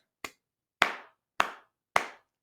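Four sharp, separate hand claps, the first lighter and the next three louder and evenly spaced, each a crisp close slap with a short ring, in a quiet setting with no talk.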